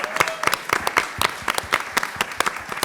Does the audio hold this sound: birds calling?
no